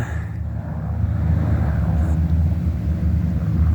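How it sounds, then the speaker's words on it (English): A formation of eight stunt planes flies over during EAA Air Show week, their engines a steady, distant droning rumble that swells slightly and holds. "1, 2, 3, 4, 5, 6, 7 eight stunt-like planes."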